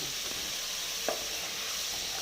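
Beans and drumsticks frying in oil with salt for a vegetable sambar, giving a steady faint sizzle throughout with one brief clink of a utensil partway through and no talking.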